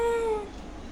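A single drawn-out, tonal meow from a pet cat at home, close and fairly loud, fading within about half a second, with no voices.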